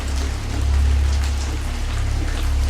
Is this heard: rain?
yes